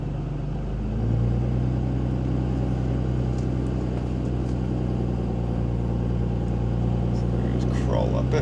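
A video game truck's engine drones low and steady as it crawls up a steep hill, a continuous loud rumble that swells slightly as it starts, with a person talking over it.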